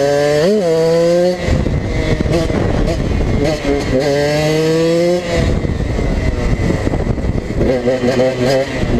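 Dirt bike engine revving and shifting while riding on curvy roads, loud and close with rising pitch sweeps between gear changes, wind noise throughout and a voice talking over it.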